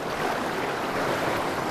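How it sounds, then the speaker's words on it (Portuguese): Strong, cold river rapids rush in a dangerous current, a continuous broad roar of churning water that stays steady and close with no talking. "Correnteza muito forte. Água muito gelada."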